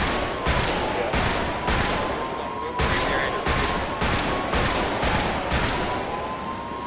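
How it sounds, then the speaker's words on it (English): Loud, sustained bursts of automatic gunfire rattle through a roleplay shootout in a video game, with repeated volleys separated by brief gaps and a steady tone running underneath. "they're already shooting."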